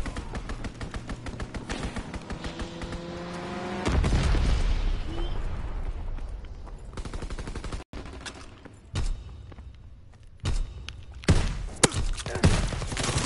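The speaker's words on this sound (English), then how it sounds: "Strafing run inbound." Gunfire from a strafing run in a video game, delivered as rapid overlapping bursts and heavy booms in a dense, continuous barrage, with scattered later shots and impacts trailing off.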